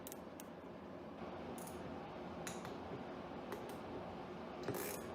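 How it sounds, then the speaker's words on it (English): A ratchet wrench clicks faintly while working on a carburetor, giving a few sparse, quiet clicks over a steady low background hum, with no voices. "Keep forgetting that's a ratchet wrench."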